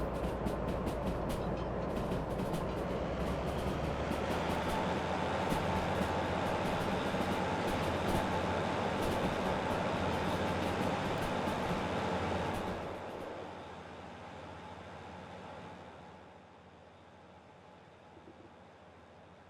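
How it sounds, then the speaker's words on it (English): A long train rumbles past in early morning in a video game, a steady broadband roar that holds for about twelve seconds before dropping away abruptly and fading to near silence. "Back of the train's way back there."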